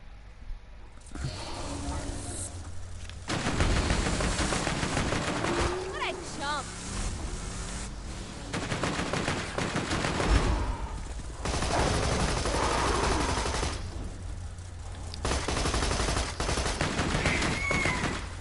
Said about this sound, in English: I think this machine gun's less powerful than this one.